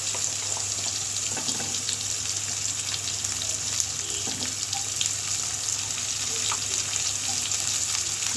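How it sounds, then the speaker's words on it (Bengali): Chopped onions, carrot and minced garlic fry over high heat in a pan, a steady loud sizzle and hiss running throughout with a low hum beneath and occasional faint clinks. "হাই হিটে ভেজে নেব।"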